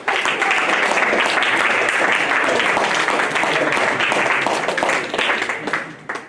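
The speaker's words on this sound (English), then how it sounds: "lower sixth, give a round of applause to those who" A school audience gives a sustained round of applause for the departing upper sixth cohort, dense steady clapping that stays loud for about six seconds before tapering off at the end.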